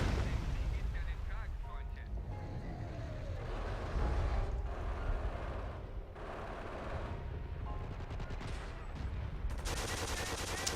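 Artillery fire and gunshots from the strategy game Blitzkrieg, in an Afrika 43 mod battle, a continuous rumbling barrage of distant booms and rattling shots that stays steady throughout.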